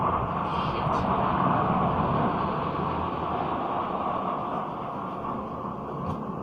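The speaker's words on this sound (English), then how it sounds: "Some sort of fighter jet." A fighter jet roars steadily overhead as a loud, broad, sustained rumble that eases slightly toward the end, heard outdoors alone without anyone speaking.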